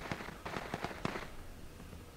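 Gunfire in a shooting video game: about six sharp, fairly distant cracks in quick, uneven succession, then fading into a quieter rumble of background noise. No one speaks.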